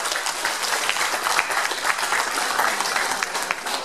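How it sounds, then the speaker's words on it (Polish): A crowd at an outdoor chicken-soup festival in Łapanów, Poland, claps warmly in sustained, dense applause that holds loud and even for several seconds. "proszę tym bardziej o gorące brawa"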